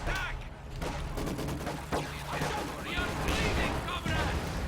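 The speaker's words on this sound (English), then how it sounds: "He's opening up on the battle group with those two Zis guns." ZiS anti-tank guns firing in the Company of Heroes 2 strategy game, with sharp booming shots and impacts scattered through a noisy battle soundscape, under a commentator's talk.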